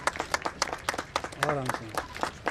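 Applause from the audience greets the chief guest at an amphitheater inauguration event, brisk and scattered under a speaker's amplified voice talking over it.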